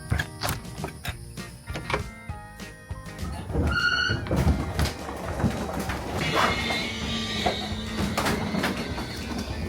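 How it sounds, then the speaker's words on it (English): RV slide-outs retracting with dry, ungreased slide seals, a close mechanical whirring drone with creaks, squeaks and scattered thunks and clicks as the rooms draw in, continuous and fairly loud throughout. "That is the sound of slide seals that need some grease lube on them."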